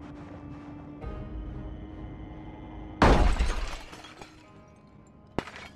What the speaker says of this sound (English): I'm going to break the glass.